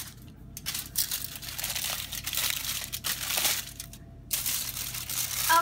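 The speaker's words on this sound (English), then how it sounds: "make a little pocket and fold it like so on all sides" Foil crinkling and crumpling as a wrapped pocket is folded closed on all sides around a rack of ribs, steady rustling bursts close up with no talk.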